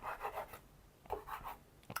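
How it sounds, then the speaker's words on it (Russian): A sharp knife cuts Odesa tomatoes into cubes on a board, producing a few quiet, close rasping and scraping strokes in two short bursts. "Вот я режу одну, потом режу желтенькую."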